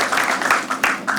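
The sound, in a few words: audience applause for Vivek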